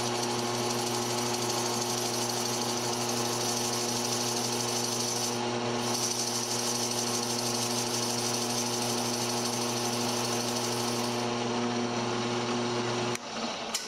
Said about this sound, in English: Now I'm going to drill the hole that the brush knot will go in.